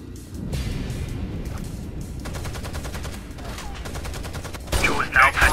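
Gunfire in the video game Rainbow Six: Vegas, with dense bursts of rapid shots running throughout, growing louder and sharper near the end, mixed with game effects and some voices.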